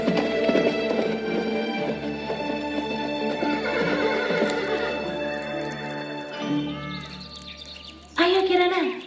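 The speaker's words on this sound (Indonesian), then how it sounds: "Dan mereka pun segera pergi berkuda menuju ke hutan belantara yang letaknya" Horses ridden toward a forest in a legend theater show, with clip-clop hooves and whinnying heard over a music backdrop and narration, and a loud whinny near the end.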